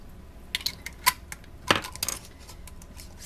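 A hot lid ring goes onto a canning jar for green tomato salsa with a few close metallic clinks and a light rattle, spaced unevenly over about three seconds.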